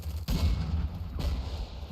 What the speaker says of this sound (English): The explosions are cool.